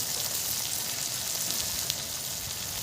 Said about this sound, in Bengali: নিয়ে লবণ হলুদ মাখানো মাছের তেলটা কিন্তু দিয়ে দেবো।